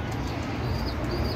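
Domestic pigeons cooing softly in a loft, low throaty calls repeating steadily with faint rustling in the background.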